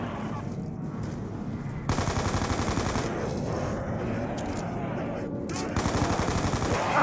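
Rapid automatic gunfire in the Call of Duty zombies map Mob of the Dead, dense continuous bursts up close that intensify after a short lull, with no talking over it.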